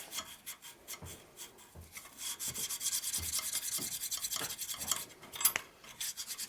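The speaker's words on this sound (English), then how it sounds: "So this just laps the seat a little bit." Repeated gritty rubbing strokes of hand lapping on a metal valve seat of a 1965 Harley-Davidson Panhead 74ci engine, a steady back-and-forth rasp up close with no talking.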